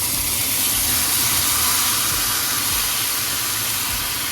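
Shredded cabbage from one small head fries with bacon in a hot pan, giving off a loud, continuous, close hiss that holds level for the whole stretch.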